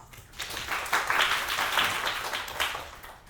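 An audience at an academic presentation session claps after a speaker's introduction, a dense, steady applause swelling for about a second and then sustained at moderate loudness with no talk over it.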